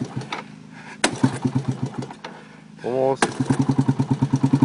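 Engine of a homemade redneck-built vehicle sputters and fires up, a few rough pulsing chugs dying away before it catches into a steady rapid loud putter close by, with people talking and shouting over it.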